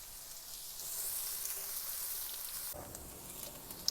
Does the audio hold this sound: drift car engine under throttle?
no